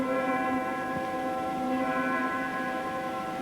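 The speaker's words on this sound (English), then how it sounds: "Chimes." Chime stop on the Chicago Stadium pipe organ, sustained bell-like tones ringing with steady overlapping harmonics, loud and continuous with no talk.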